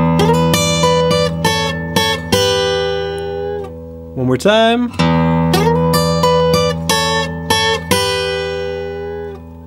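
A blues guitar lick in E from the second bar of a 12-bar pattern: plucked notes and bends ring out, including a long vibrato-laden slide in the middle, then the phrase repeats after a brief spoken cue.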